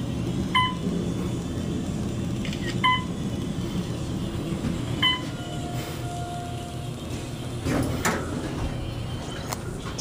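A 1983 Otis hydraulic elevator in a shopping center runs through a ride, giving a steady low rumble with a few faint chime-like tones and a brief whine midway, heard close inside the cab.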